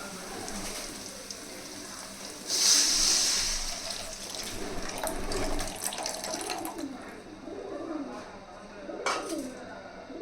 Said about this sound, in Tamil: இப்போ நம்ம புளி தண்ணி ஆட் பண்ணிக்கலாம்.